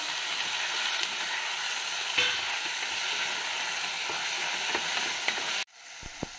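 Tomatoes sautéing with onions in a pan, a steady close sizzle with faint stirring scrapes, cutting off abruptly near the end into near silence with a few small clicks.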